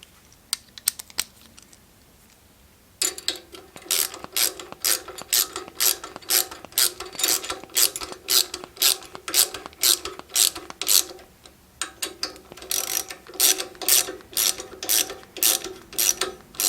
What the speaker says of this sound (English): I'm using a 9/32 socket to install this bracket here with these two supplied screws.